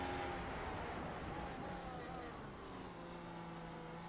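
Steady roar of Formula One car engines in a racing game at the Hungaroring, including Mercedes-AMG W12 cars, continuous and fairly loud, with a slight dip in intensity partway through.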